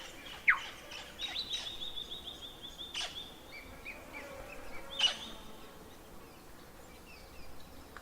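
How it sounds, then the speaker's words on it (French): Birds sing in a quiet forest, with a few sharp chirps and whistled calls over soft insect buzz and a faint background hush. "les oiseaux et la vie sauvage."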